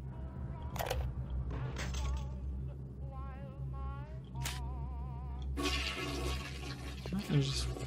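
A toilet flushes in the video game BioShock, a rushing, gurgling water sound layered with warbling game tones and steady background hum; a person talks briefly over it.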